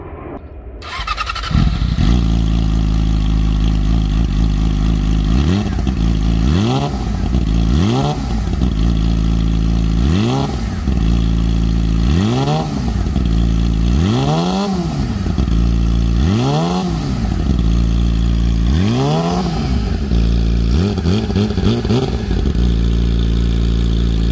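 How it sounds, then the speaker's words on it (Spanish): A Yamaha R6 sport motorcycle starts and settles into a loud idle, then gets blipped repeatedly in a steady series of sharp revs that climb and fall back, with a slight squeal, alone and close by. "lo que me gusta de esta motocicleta es el escape en la parte de abajo y el sonido"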